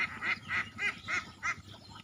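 Farm ducks quack in a steady run of about six loud, close calls, evenly spaced and alone, with no talking.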